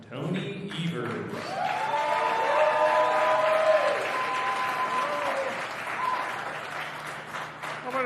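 An audience at a Wisconsin Black Chamber of Commerce event applauds to welcome the Governor of Wisconsin, a loud, sustained crowd ovation with cheering voices, building and then tapering over several seconds.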